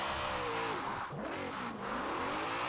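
BMW M3 GTR with a 4-liter V8 revving in Forza Horizon 4, a loud, steady engine roar whose pitch dips and climbs twice as the revs change, with no talking.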